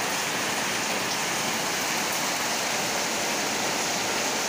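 Heavy rain pours down at Bang Pu in Samut Prakan, a loud, dense, unbroken roar of water close by, with no voices.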